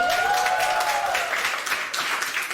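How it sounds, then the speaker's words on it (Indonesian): Audience applause in a church service, a steady wash of clapping that fills the whole short stretch at an even level, with a faint tonal hum running underneath. "Berikan tepuk tangan untuk Meli."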